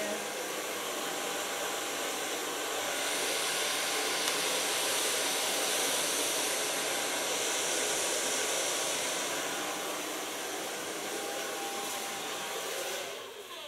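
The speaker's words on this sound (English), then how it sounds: "So far, blow drying." A hair dryer blow-dries hair in a salon, a steady loud whooshing hiss that runs unbroken for over thirteen seconds, close by, with a slight drop in level near the end.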